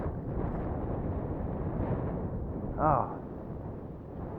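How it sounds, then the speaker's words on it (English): Strong wind gusts buffeting the microphone around a Boeing 787 at an airport, a steady loud roar throughout with a brief surge near the end and a short exclamation from a person. "I set it down, the wind will blow it backwards"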